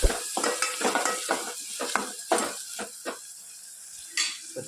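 Onion and garlic frying in a pan, with irregular bursts of sizzling and clattering stirring against the pan, close and fairly quiet, with no one talking.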